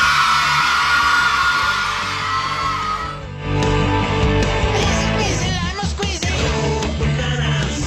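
A loud crowd yells and whoops together at a basketball game in a large echoing municipal gym in Uri, Italy, the roar swelling and dipping with scattered shouts and claps.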